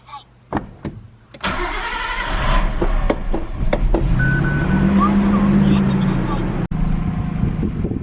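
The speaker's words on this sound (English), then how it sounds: "So yes, objective, warm up the Skyline." An R32 Nissan Skyline cranks with a few clicks, catches and starts, then settles into a loud, steady warm-up idle with a throaty rumble close by.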